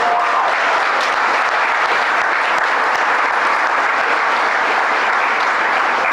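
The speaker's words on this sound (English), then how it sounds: "Give him a round of applause" Steady, loud audience applause fills an event space in Kingston, New York, a dense unbroken clatter of many hands that holds evenly throughout with no voices over it.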